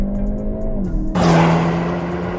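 A Hyundai i30 N Performance, 2021 facelift, holds steady revs for launch control, then the engine note jumps as the car launches hard and accelerates, loud and close.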